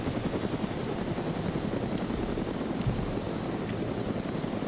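A helicopter in the ARMA 3 game thumps with continuous rotor chop and engine drone, steady and close as it comes in to land, with no talking over it.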